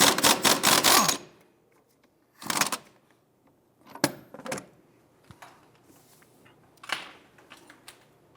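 Metal clacks and rattles as a ball joint press tool is worked off the axle of a 1999-2004 Jeep Grand Cherokee, a rapid burst of clatter followed by several separate sharp knocks with quiet gaps between.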